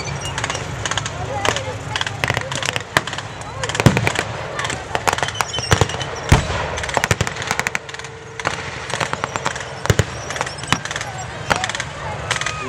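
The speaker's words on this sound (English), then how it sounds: "German anti-tank gun there, Pack 40, take out most Allied tanks." A German Pak 40 anti-tank gun fires at a battle re-enactment, with sharp cracking reports and bursts of gunfire scattered irregularly throughout, some near and loud, others more distant, over a busy background.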